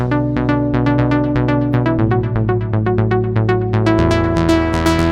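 A Serum 2 synthesizer preset plays a house-style pattern of repeated plucked chords over a steady bass, the notes pulsing rhythmically and brightening toward the end.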